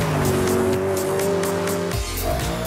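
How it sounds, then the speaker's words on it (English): A BMW M3 GTS accelerates hard with its tail sliding out, the engine note loud and sustained, tires squealing through the slide before the revs shift near the end. "Onto the throttle, nice tail-out action."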